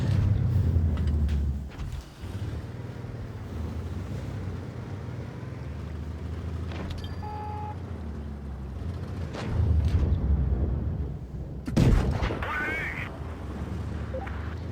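Tank cannon fire in the mobile game World of Tanks Blitz, with a KV-5 heavy tank in the fight: a few sharp, booming shots over a constant low engine rumble, heard under a voice talking.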